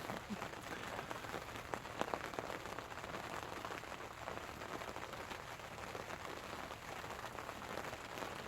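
Steady rain falling, a dense continuous hiss with scattered sharper drops, no voices.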